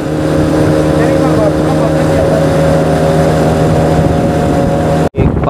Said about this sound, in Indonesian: Perahu-perahu di kawasan laut nih laju-laju ya.